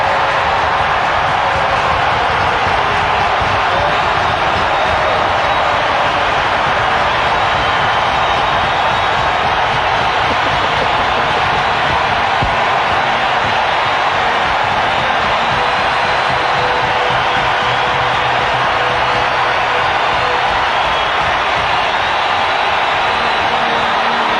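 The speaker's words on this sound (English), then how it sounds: "joining the crowd here for a standing ovation for one of the prettiest goals you'd ever want to see" Sustained roar of a hockey arena crowd on its feet applauding and cheering a Lemieux goal, a dense, loud, unbroken wash of noise lasting the whole stretch.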